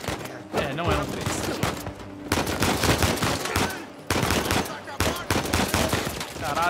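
Dense bursts of gunfire from an Uncharted 4 firefight, rapid overlapping shots forming a loud, continuous fusillade with brief pauses, while a player speaks over the barrage.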